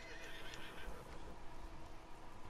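A horse in a video game neighs and whinnies with a loud, shaky cry near the start, followed by hoof clip-clop under a steady layer of game background noise.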